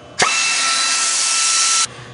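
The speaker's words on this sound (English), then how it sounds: "we're going to go ahead and drill our pilot hole with a 1/8 inch drill bit" A power drill fitted with a 1/8 inch bit bores a pilot hole while an aftermarket anti-sway bar is fitted to a Chevy Silverado. One steady, close, loud high whine lasts about a second and a half, then stops abruptly.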